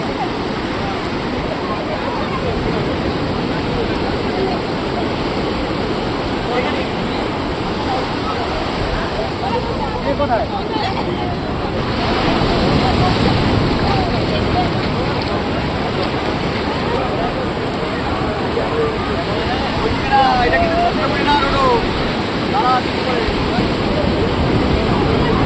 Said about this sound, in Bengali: আমরা বেশি ওদের নামাবো না, কারণ এখানে কন্ট্রোল করার মতো না, প্রচণ্ড ঢেউ।